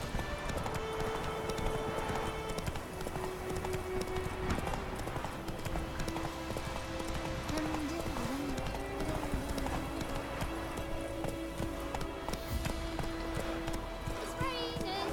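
A horse gallops in The Witcher 3 game with steady, continuous clip-clop hoofbeats and occasional snorts under a bed of music and game ambience, with someone talking over it.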